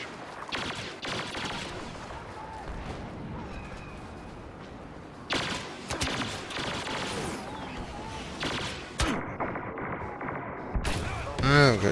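An artillery barrage in a Star Wars video game lands as a chaotic burst of blasts and rumbling explosions, with overlapping game effects and a louder flurry near the end.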